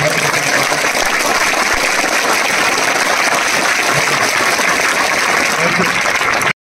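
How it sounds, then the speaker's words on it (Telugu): At a gathering in the Nagavaram hostel, an audience claps loudly and continuously, a dense unbroken wash of applause with voices mixed in that cuts off abruptly at the end. "ఒక్కసారి గట్టిగా చప్పట్లు కొడితే ముఖ్యమంత్రి గారికి"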